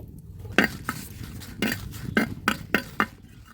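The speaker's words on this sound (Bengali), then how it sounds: "এবার শুকনো মরিচগুলো ভেজে নিচ্ছি" Dried red chillies frying and being stirred in a pan, with a series of sharp clinks and scrapes of a utensil against the pan, roughly seven distinct knocks over a low background of frying.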